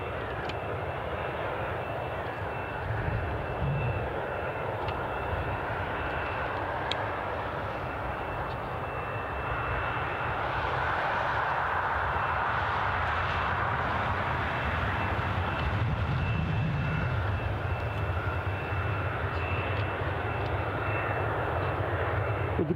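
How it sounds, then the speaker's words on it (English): A Ryanair jet pushing back at Newcastle International Airport gives off a continuous, moderately distant jet engine drone and whine that swells slightly partway through, with no voices. "I can see our Ryanair flight that's going to be returning to Dublin, pushing back."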